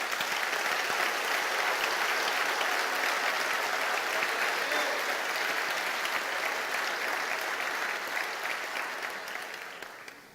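A church congregation applauds the Lord during a sermon, steady full clapping that holds strong for several seconds and then fades out toward the end.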